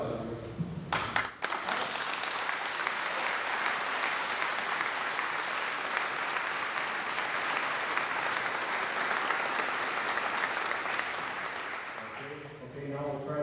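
Sustained applause from a crowd at an outdoor Memorial Day ceremony in Riverside, honoring a United States Marine Corps veteran and family, rising abruptly after brief talk and holding steady for over ten seconds before fading as speech returns.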